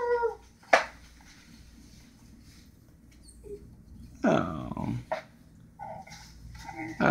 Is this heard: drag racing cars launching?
no